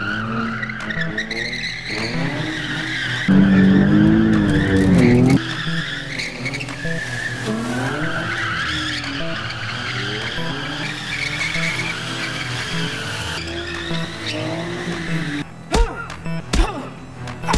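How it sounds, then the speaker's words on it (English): During a chase in a short film, a car's tires squeal and skid in long, loud, wavering screeches, with a heavy engine burst partway through and sharp impacts near the end. "Especially when you're being chased by a car."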